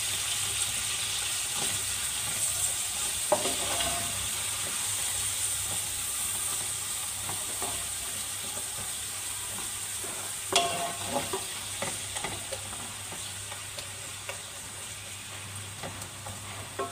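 Two medium onions frying in hot oil after raisins, for a kabuli pulao, give a steady close sizzle with occasional stirring clinks and scrapes, no voices.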